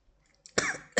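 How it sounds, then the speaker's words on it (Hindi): A man's sharp coughs during a spoken lecture, a short burst followed by a second cough a moment later, close and fairly loud in an otherwise quiet room. "खांसी हो रहा है"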